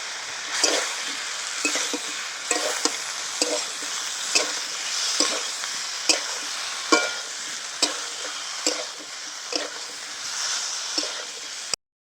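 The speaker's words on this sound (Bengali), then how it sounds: "সব কিছু উপকরণ দিয়ে খুব ভালো করে আমি কষিয়ে নিয়েছি" Jackfruit and potato cooking in a pan with spices, beaten curd and cashew paste for a Bengali echor chingri dish: a steady sizzle with repeated sharp scrapes of a spatula at a regular stirring rhythm, close and clear, no talking.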